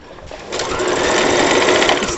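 A sewing machine stitches a salwar seam at close range, starting softly and quickly building into a steady, fast mechanical whirr.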